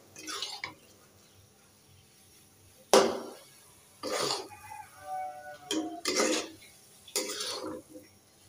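Dry semai vermicelli cooks in a pot without milk, heard as a handful of short, scraping stirring bursts with quiet pauses between them.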